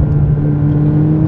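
A McLaren 570S with a 570-horsepower turbocharged engine drones steadily through its exhaust on roads near Faro, Portugal; a loud, close, low hum holding a constant pitch with no talk.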